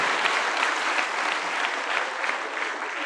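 Studio audience in a TV studio applauding, a steady, dense wash of clapping from many hands that stays loud and even throughout with no pauses.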